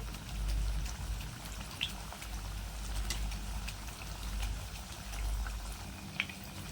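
Barnyard millet vada frying in hot oil, a steady close crackle and bubbling sizzle with occasional small pops throughout and no speech.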